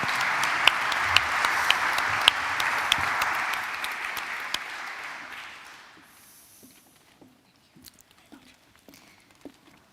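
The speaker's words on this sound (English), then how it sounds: "a huge round of applause for everyone." Audience applause at a broadcast industry symposium panel session, a dense round of clapping lasting about five seconds before fading out, leaving a quiet hall with a few faint sounds.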